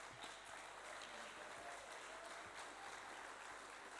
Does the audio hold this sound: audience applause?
yes